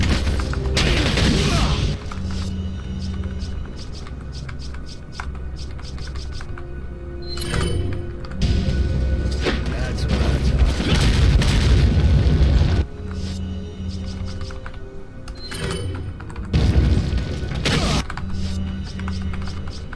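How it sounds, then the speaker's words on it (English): Flash grenades go off in Resident Evil 4 amid a boss fight, booming bursts that recur with heavy low rumble and clatter, loud over game noise. "The flash grenades will be used."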